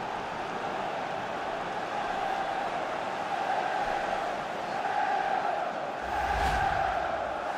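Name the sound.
stadium crowd reacting to a goal in a PS5 football video game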